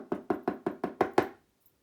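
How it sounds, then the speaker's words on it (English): Seven sharp, evenly spaced knocks on a wooden cottage door, close and clear, in a quick steady rhythm with nothing else heard. "She knocked on the door and waited. She knocked again"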